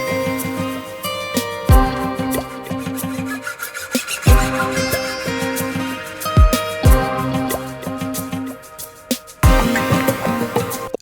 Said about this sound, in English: We kept all the effects for this acoustic lead intro